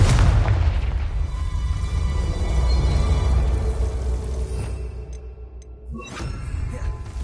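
A spell blast from a video game erupts in a loud, booming explosion with a rumbling, crackling tail that fades over several seconds, followed by a brief second burst near the end.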